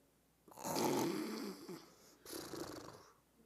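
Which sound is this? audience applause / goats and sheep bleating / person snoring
person snoring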